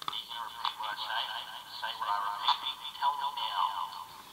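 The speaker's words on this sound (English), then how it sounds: "That's echo. Echoey." A Yakbot toy robot plays back a voice through its echo effect, a thin, tinny voice with a repeating echo tail, close and moderately loud, from a small speaker.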